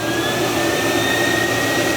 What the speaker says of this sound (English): Sounds like a jet starting.